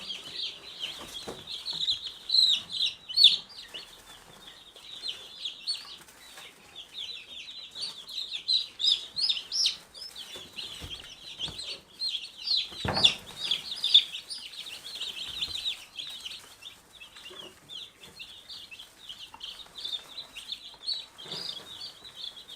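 Busy, continuous high-pitched peeping from many young birds, steady throughout with occasional louder bursts and faint handling noises.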